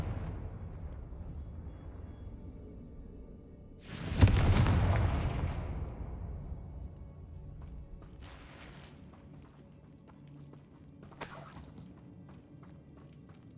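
A Confringo fire spell in the video game Hogwarts Legacy lets off one loud, close blast with a long, rumbling decay, and two fainter bursts follow later against a quiet background hum.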